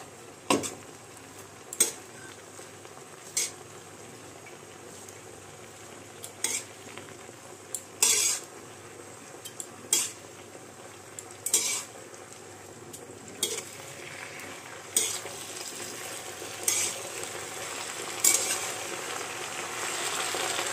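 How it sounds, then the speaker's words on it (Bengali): Salt and turmeric being stirred into food in a pan, a soft scraping bed with repeated short sharp utensil scrapes and clicks at a slow irregular rhythm, close and moderately quiet, no talking. "নুন হলুদ দিয়ে ব্যাপারটা আমি যতটা পারবো মিলিয়ে দেব"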